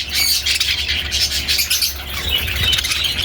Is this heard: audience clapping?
no